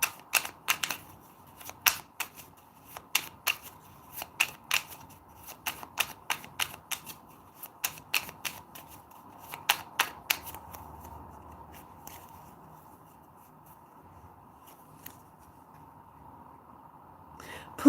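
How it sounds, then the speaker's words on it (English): A tarot card deck shuffled by hand, a rapid series of sharp crisp riffles and flicks in irregular bursts, close and fairly loud, tapering into quiet handling with a faint steady hum. "Let's shuffle and get one card for you"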